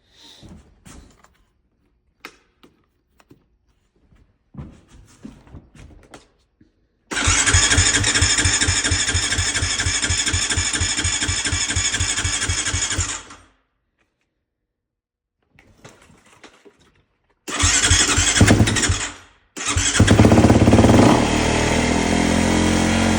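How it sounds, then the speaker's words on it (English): A dirt bike's engine is cranked after some handling noises, then runs in a loud steady buzz for about six seconds and cuts out. It is cranked again twice and restarts, revving near and loud. "I might try to fire up the dirt bike and maybe go for a test ride."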